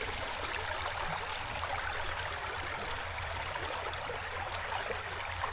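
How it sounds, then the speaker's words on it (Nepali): A murmuring stream flows steadily, its broad, even rush of water filling the scene close by without a break and with no voices over it. "पानीको call call call call call call call call त्यो हुन्छ नि"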